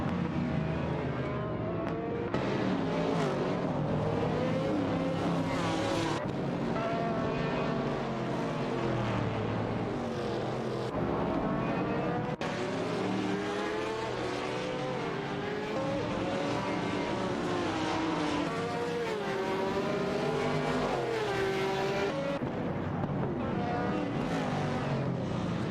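Race cars including a McLaren Mighty C and a Nissan R382 roar steadily through a racing video game, engines whining and revving loud and continuous with shifting pitch as several cars run close together.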